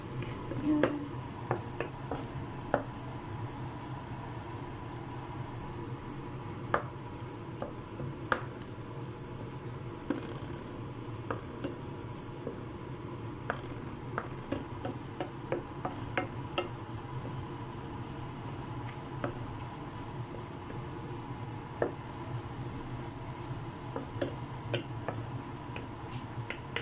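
Sardines stirred in a pan for sardine pasta, a steady soft sizzle with frequent light scraping taps of the utensil over nearly half a minute, no talking.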